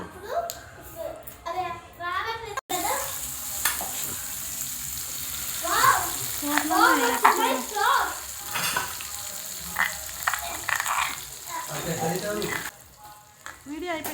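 Oil crackling and sizzling as spices hit the pan, rising into a busy hiss with stirring scrapes while people talk nearby.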